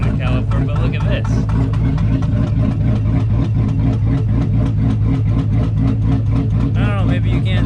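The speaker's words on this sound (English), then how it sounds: "As you can hear, the pickup's running." A supercharged GMC Sierra pickup engine runs at a steady idle, loud and close, with a wheel rubbing against its brake caliper, while someone talks over the engine.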